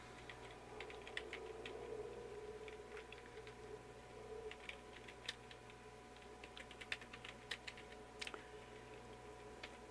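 Keystrokes on a computer keyboard during a test on an old AMD Athlon PC with a hard drive, sharp irregular clicks in quick bursts over a steady low machine hum and fan noise.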